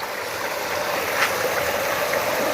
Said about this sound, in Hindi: इस नाली के ज़रिए यहाँ से पानी आता है। तो यहाँ हाइट से नीचे गिरता है,